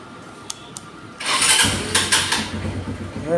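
A Runner Turbo motorcycle with 19,000 km on it gives two faint clicks, then its electric self-starter fires the engine, which catches and settles into a loud, close, slightly uneven idle.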